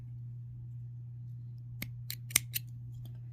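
Scissors snip off excess crochet yarn with a few quiet, crisp cuts spaced apart over a steady low background hum, with no voices.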